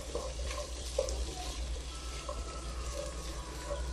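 A spoon stirs black and golden raisins in a pan while they cook for Arabic rice, giving soft scraping and a faint sizzle that run steadily under the ambient kitchen noise, with no talking.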